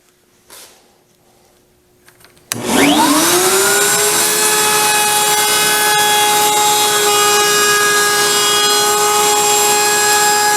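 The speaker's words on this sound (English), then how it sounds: "So I just went over that with a round over bit." A router fitted with a round over bit shapes a wood edge during a pie safe restoration; after a quiet start it spins up with a sharp rising whine, then holds a loud, steady high-pitched cutting drone close by.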